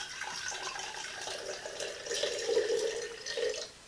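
Distilled water pours from a cup while vanilla extract is made in a kitchen, a soft, faint trickling and splashing that swells briefly near the end before stopping.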